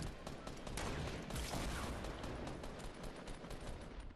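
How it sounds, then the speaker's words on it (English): Dense, continuous gunfire in Fortnite, rapid overlapping shots forming a loud, sustained barrage throughout. "Just shoot all the trees down."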